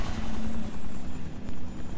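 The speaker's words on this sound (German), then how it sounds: "da kommt ein Heli" A helicopter approaches in the video game Kane and Lynch 2, its loud, close rotor thumping in a fast steady pulse over a dense roar, with no voices.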